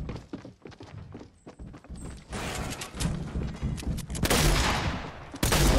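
Gunfire in Fortnite, a rapid crackle of sharp shots at the start, then heavier, louder bursts and dense bangs building toward the end, with some footsteps and clatter mixed in.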